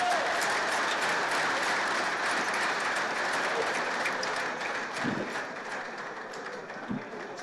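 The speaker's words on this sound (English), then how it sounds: "I think we can give the officials a great hand clap." A crowd at a fishing championship event clapping for the officials, a fairly soft, spread-out patter of applause that gradually fades, with a couple of brief thumps near the end.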